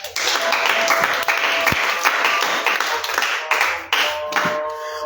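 A church congregation claps and applauds together in praise of God, a dense, sustained burst of hands filling the room, loud and continuous with a few sharper taps standing out.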